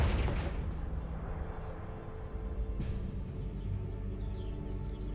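An explosive fire spell cast in a video game gives a dense, continuous roaring rumble with a sharper burst near the middle, fairly loud and steady throughout.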